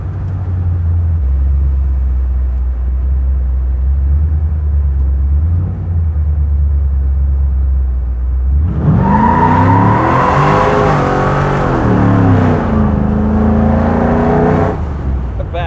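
A low, rumbling car engine idles, then revs hard in rising, roaring bursts that stay close and loud.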